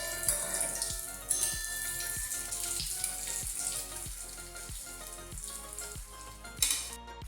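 Banana blossom cutlets frying in oil on low heat, a soft, steady bubbling sizzle with faint regular ticks, close and quiet, with a small clatter near the end and no voices.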